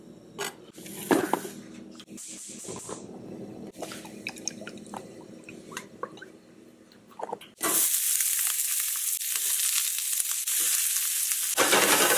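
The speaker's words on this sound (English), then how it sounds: "I'm just gonna saute that up into the pan right here." Onion, serrano peppers and garlic go into a hot pan: after scattered clinks and handling noises, a loud, steady sauté sizzle takes over for the second half, close and continuous.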